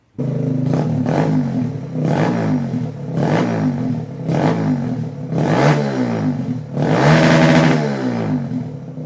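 A Kawasaki Z125 motorcycle fitted with an Empire Industries exhaust idles and revs loudly under a carport, with repeated throttle blips rising and falling in a steady rhythm and no one speaking.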